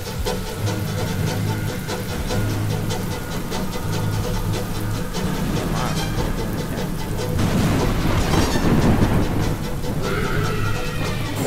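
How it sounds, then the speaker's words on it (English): A Roblox thunderstorm rolls on as steady heavy rain with a low rumbling undertone, building into a louder crash of thunder partway through. "Oh, a thunderstorm."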